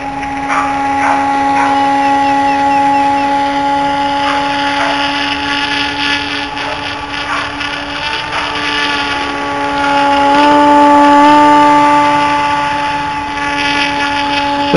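A small OS .61 nitro engine on a model swamp buggy runs steadily throughout, its high, buzzing drone holding a constant pitch with a slight rise near the end.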